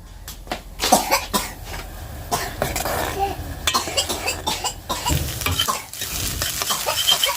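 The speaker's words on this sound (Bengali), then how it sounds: "সন্ধ্যাবেলা কাশি হচ্ছে কাশি হচ্ছে" A person coughs repeatedly indoors in the evening, the bursts close and harsh over loud sizzling and stirring as instant noodles with egg fry in a pan.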